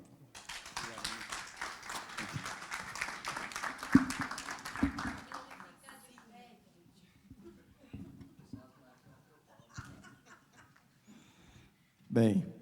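A short round of applause from an audience at a couples' talk, fairly faint clapping for several seconds that thins out, followed by scattered murmurs, breathing and a brief voice.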